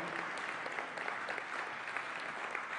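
An audience claps steadily, a dense and even wash of applause held at a moderate distance throughout.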